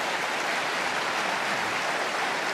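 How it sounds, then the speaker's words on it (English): A large audience applauds steadily at the 1994 Berkshire Hathaway annual meeting, a dense even wash of clapping from a big hall that holds constant throughout without any voices. "No need to applaud."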